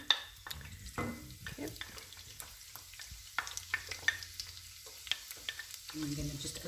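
Garlic frying in a pan for Egyptian koshari, with faint sizzling broken by frequent clicks and scrapes of stirring utensils, moderately near and without talk.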